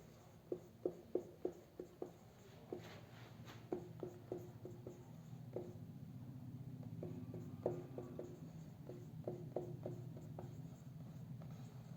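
Pen or chalk strokes writing out a maths solution, steady tapping scratches in short bursts across a quiet room with a low background hum, no voice.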